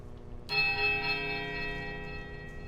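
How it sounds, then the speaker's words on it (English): A heavy iron bell in Pillars of Eternity is struck once, giving a sudden low, powerful clang that rings on and slowly fades as a sustained tone. "the clapper strikes a low, powerful note against the heavy iron"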